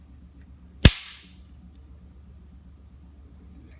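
A Ruger 22/45 pistol, just fitted with a new sear, is dry-fired against a trigger gauge, releasing the hammer with a single sharp, loud snap that decays quickly into a quiet room hum.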